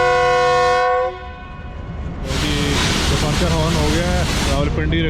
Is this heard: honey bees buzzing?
no